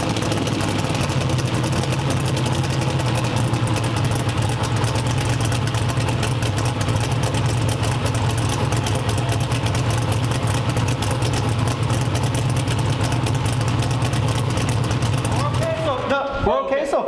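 A twin-turbo 427 engine runs on a dyno ahead of a drag-and-drive event, a loud, steady roar holding for about sixteen seconds before abruptly cutting off, with voices heard over it.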